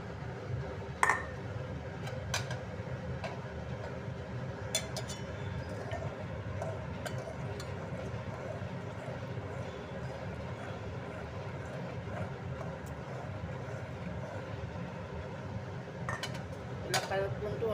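A spoon stirs matar kheer with green peas and soaked sago in a pot, giving faint, scattered clinks and scrapes against the metal over a low, steady background.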